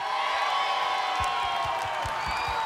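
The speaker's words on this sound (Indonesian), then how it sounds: "Kurang besar teriakannya mana yuk" Studio audience at an Indonesian dangdut TV show cheering and clapping loudly in a continuous roar, with a few low thumps scattered through the second half.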